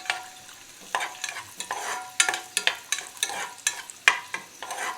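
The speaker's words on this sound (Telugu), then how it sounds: "ఇందులో కాస్త జీడిపప్పు ఫ్రై అయ్యాక అందులోనే కిస్మిస్ కూడా వేసేస్తున్నాను" Cashews and raisins sizzle in a pan while being stirred, a spatula scraping in repeated strokes over the steady hiss of hot oil.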